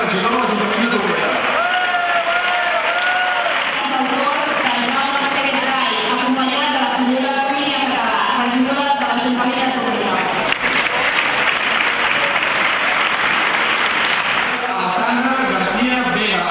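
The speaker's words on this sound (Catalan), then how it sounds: "aplaudiment a la primera candidata, la Laura Carles Sorós" Audience applause for a candidate at the Tordera 2010 pubillatge election ceremony. Steady clapping and crowd noise run throughout, with talk or music mixed in underneath.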